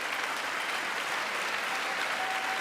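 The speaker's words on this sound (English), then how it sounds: "Why not clap for that?" Steady, continuous applause from the chamber during a State of the Union address, a dense wash of clapping at even loudness throughout.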